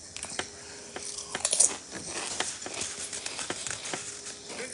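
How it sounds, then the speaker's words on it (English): Crunch of biting into battered, lightly seasoned fried pollock at an all-you-can-eat restaurant, a series of crisp, close, irregular crackles over several seconds with no talking. "Listen to that crunch."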